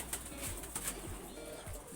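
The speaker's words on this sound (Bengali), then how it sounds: "নড়াচড়া করছে পায়রাটা খুব।" Soft, brief flutters of a high-flying pigeon shifting and flapping its wings, a few quick bursts over a low, steady background hum.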